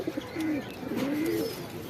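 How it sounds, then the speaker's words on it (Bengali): Pigeons cooing on a rooftop in soft, rolling low calls, repeated a few times against a faint background hum. "আজকে আমরা অনেক কবুতর ছাড়বো আমাদের বাসার"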